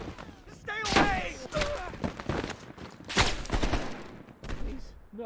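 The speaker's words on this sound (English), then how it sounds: "They're shooting at us!" Shootout gunfire from Black Ops Cold War, with loud, repeated shots in bursts throughout and frantic shouted voices over the fire.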